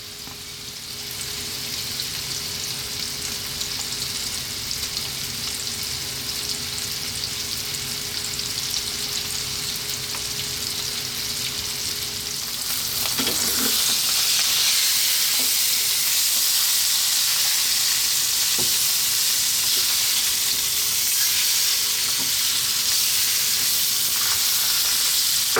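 Salmon frying in a pan over medium heat for a fish curry, a steady close sizzle that swells louder midway, with a few light clicks of the pan and utensil.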